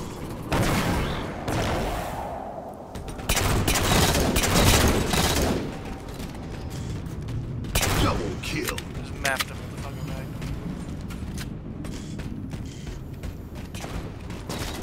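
Magnum pistol fire in Halo 4 SWAT, bursts of sharp gunshots cracking in clusters and then scattered single shots, heard under excited talk from players.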